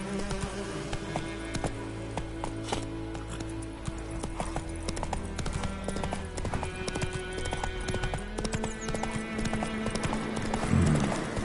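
Hooves of Roach, the horse in The Witcher video game, clip-clop steadily and close throughout, layered over a dense bed of insect-like buzzing and ambient game sound.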